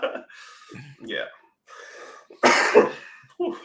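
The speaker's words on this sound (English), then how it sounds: "I've got a bit of a cough" A person who is recovering from an illness gives a harsh, close cough with a throat-clearing rasp, among gasps and breathy speech-like sounds.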